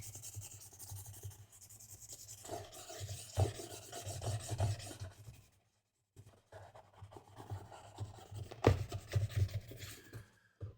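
A marker rubs and scratches across a papercraft chatbot's mouth as the inside is colored in, close and fairly quiet, in uneven strokes with a brief pause midway and a sharper tap near the end.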